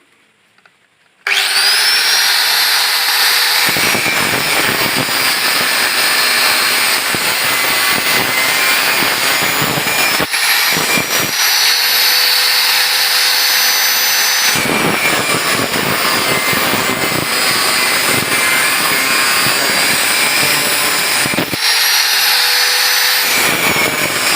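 A loud angle grinder whines at high pitch, running in long bursts with a few short pauses as it spins down and restarts.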